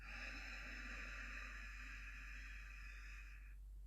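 A slow, steady exhalation during a yoga breathing exercise, with a soft hiss of breath through a slightly narrowed throat that holds for about three and a half seconds before fading out, faint and close.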